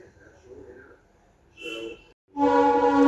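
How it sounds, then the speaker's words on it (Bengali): A train passing close by, with a brief horn-like tone followed by a loud, steady rumbling roar that builds abruptly near the end. "তো আটটা ট্রেনটায় যাচ্ছে এখন তোমরা হয়তো শুনতে পাচ্ছ আওয়াজ"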